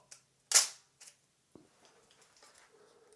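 A film camera's shutter fires once with a sharp, crisp snap, followed by a few faint mechanical ticks and clicks in an otherwise quiet room.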